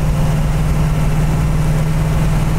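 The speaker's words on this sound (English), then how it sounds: "We're in third gear right now," Steady, loud low engine drone of a 1970 Plymouth Sport Satellite cruising in third gear, running smoothly with a constant rumble and vibration throughout, no voices.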